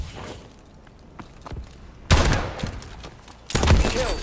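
Pistol gunfire in Call of Duty Advanced Warfare on the Atlas Gorge map: faint scattered shots first, then two loud, close bursts of firing, the second around three and a half seconds in, each trailing into a ringing decay.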